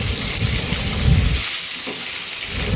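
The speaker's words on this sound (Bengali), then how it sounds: "খুব ভালোভাবে মাছের মাথাগুলোকে ভেজে নেওয়া হচ্ছে," Fish heads frying in oil in a wok alongside whole cumin, dried chillies and bay leaves, giving a dense, continuous close sizzle and hiss with no voices.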